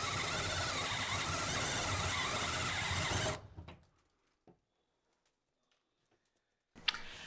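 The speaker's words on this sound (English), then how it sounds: "now that we've drilled our pilot holes from the inside" An electric drill bores pilot holes from inside through the metal roof of a Ford Transit high-roof extended van, making a loud, continuous grinding whine for about three seconds before it stops, leaving near silence and a brief clatter at the end.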